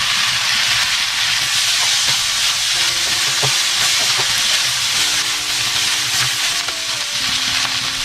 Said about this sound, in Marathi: आता गाजर घालतोय. व लगेच कापलेली पत्ताकोबी व शिमला मिरची.